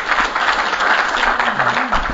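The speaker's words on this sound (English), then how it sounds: "Please join me in giving a round of applause to the panel." Conference audience applauds a panel on Poland's natural gas revolution with a round of steady clapping, while a low voice speaks briefly beneath it.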